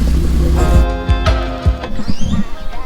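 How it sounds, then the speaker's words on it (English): A car with a race cam idles roughly on poor fuel, its lumpy, uneven engine note loud and close and pulsing irregularly throughout. "it's running as it's supposed to, but it's just running rough because it's on shitty fuel"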